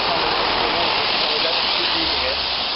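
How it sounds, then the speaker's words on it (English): Heavy rain pours steadily around a Jeep Cherokee XJ Mk1 under repair, forming a dense, unbroken hiss that fills the whole stretch at close range. "It's now raining really badly"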